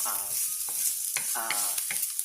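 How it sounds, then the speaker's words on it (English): Onions sweating and sizzling in a secondhand pot, giving a steady frying hiss with scattered crackles and a few stirring clatters, close and continuous with no talk. "So we've got these onions sweating."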